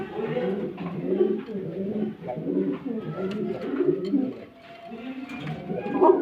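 A pigeon on a Gazipur farm coos in repeated low, throaty phrases, close and clear, with short pauses between calls and soft background noise.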